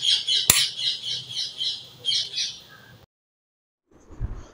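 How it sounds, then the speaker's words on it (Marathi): Sparrows chirp and squawk in a busy, repeated chatter at seven in the morning, with one sharp loud call near the start. The birds stop abruptly partway through, followed by silence and then a brief low rumble. "तुम्ही चिमण्यांचा आवाज ऐकलाच असेल"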